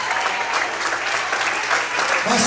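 A church congregation claps loudly and continuously during an evening worship service, a dense wash of applause with a voice faintly rising at the end.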